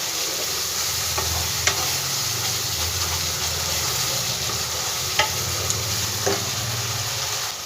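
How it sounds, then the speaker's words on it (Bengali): Spices with turmeric and salt fry in hot oil for a vegetarian festival dish, a steady close sizzle with scraping stirs and a few sharp clicks of the spoon against the pan, no talking. "ভালো করে মশলাটা আমি ভাজবো, মশলা থেকে যতক্ষণ তেলটা না ছেড়ে দিচ্ছে।"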